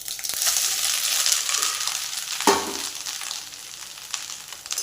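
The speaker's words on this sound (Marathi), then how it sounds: "तूप गरम झालेले आहे, याच्यामध्ये आपण हे खोबरं किस टाकून घेऊ." Grated coconut dropped into hot ghee sizzles and crackles close up, with a sharp burst partway through followed by a steady, softer fry and faint scraping, no voices.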